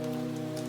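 Steady rain falls on a city street at night, a continuous close wash of drops with a low steady hum beneath it and no voices.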